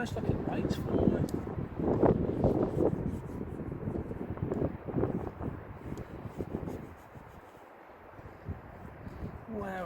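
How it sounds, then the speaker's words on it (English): Wind gusts outdoors during a car detailing session, a steady broadband rush and buffeting across the microphone that eases briefly near the end, with low-level sound of handling or talk mixed under it. "Whenever I start to film, that wind picks up."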